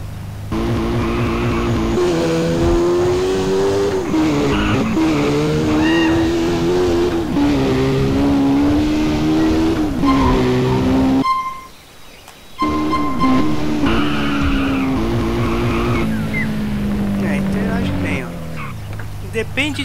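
A car being driven in GTA San Andreas, its engine droning loudly with pitch rising and falling as it revs, cutting out briefly near the middle before resuming.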